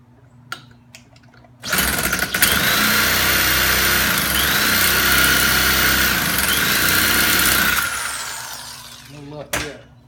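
A Homelite ST 275 string trimmer's small two-stroke engine roars loudly for several seconds during a start attempt, then dies away; quiet handling noises come before and after.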